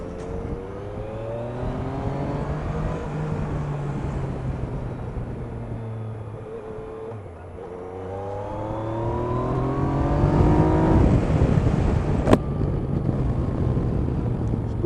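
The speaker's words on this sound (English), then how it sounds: "How the bloody hell is a 900cc engine accelerating like this, man?" A 900cc engine on a 2016 triple motorcycle pulls hard through the gears, its revs climbing in rising sweeps with short drops at each shift, loud and close under steady wind rush.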